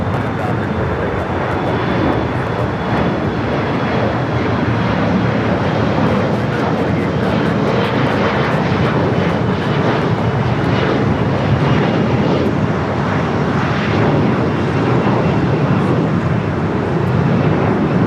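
A United airliner rolls for takeoff on runway 25 right at LAX, its jet engines a loud, steady, broadband roar that holds without a break from start to finish.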